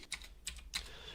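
Three faint, well-spaced keystrokes on a computer keyboard tap in a quiet room while Java code is being typed, with no voices present.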